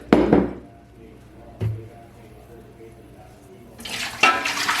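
Hot tap water poured from a container into a Presto pressure canner, with a gushing burst at the start, a brief splash mid-way and a longer rushing pour near the end.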